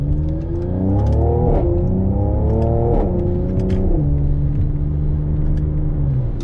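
A car engine revs and pulls hard as a paddle-shift gearbox works through short shifts and downshifts, its pitch rising, dropping at each gear change, then holding a steady drone, loud and close.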